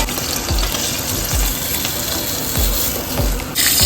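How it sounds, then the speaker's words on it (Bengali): Cauliflower and potatoes fry in oil left over from frying fish, a loud steady crackling sizzle with regular soft knocks of stirring roughly every second. "এখন ওই তেলে ফুলকপি আলুগুলো ভেজে নিচ্ছি।"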